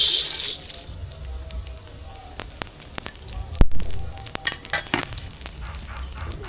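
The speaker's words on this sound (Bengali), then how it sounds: "এবার বিরিয়ানিতে দেওয়ার জন্য মশলা ভেজে নেব" Whole spices for biryani (cardamom, cinnamon, bay leaf, white and black pepper, cubeb, cloves, shahi jeera) crackle and spit in a hot pan, with sharp irregular pops, a low hum and one loud thud midway.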